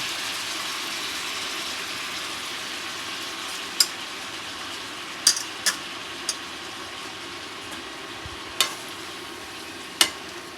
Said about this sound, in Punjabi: ਤੇਲ ਗਰਮ ਹੋ ਗਿਆ ਨਾਲੀ ਪਾ ਦਿੱਤੇ ਨੇ ਪਿਆਜ਼ ਤੇ ਆਲੂ ਫਲੀਆਂ